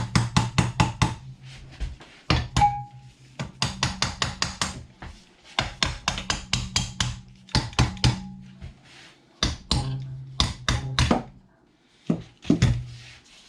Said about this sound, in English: Now I need to tap this a little bit